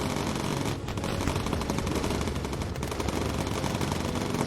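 In the video game Bomber Crew, an enemy fighter strafes a bomber, producing dense, continuous machine-gun fire with rapid, evenly spaced bursts over a roaring background, loud and unbroken throughout.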